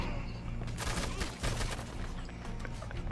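A rapid burst of gunfire rattles on in the video game Red Dead Redemption 2, a dense crackling volley that stays fairly faint and steady throughout.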